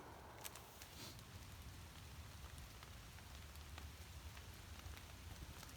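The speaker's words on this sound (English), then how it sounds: "Yep, it's raining now." Rain falling in the woods, a steady soft patter of drops on surfaces, fairly faint and continuous with occasional sharper drips, no voices.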